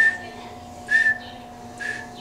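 A person whistling to imitate the call of tecuiche animals, three short high whistled notes with pauses between them, clear against a quiet background.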